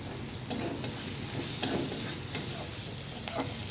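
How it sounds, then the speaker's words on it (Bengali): Onion, chili and garlic fry hard in a pan, giving a constant crackling sizzle up close with intermittent spatula scrapes and stirring clicks, and no one speaking. "এই দেখো পেঁয়াজ লঙ্কা রসুন দিয়ে খুব ভাজা করে নিচ্ছি"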